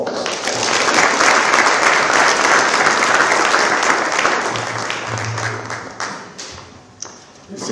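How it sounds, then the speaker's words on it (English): Audience applause for a lecture speaker at an archbishop's lecture on skills development, a loud sustained crowd clapping that runs for several seconds before thinning out toward the end. "Please join me in giving Prof a round of applause."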